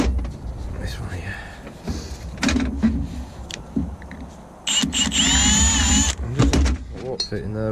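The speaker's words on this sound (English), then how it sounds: "Gotta keep checking I'm drilling the right bit." A power drill works on a part of the brakes of a Mercedes Actros truck, running in bursts with rising and falling whine near the microphone, with someone talking between and over the drilling.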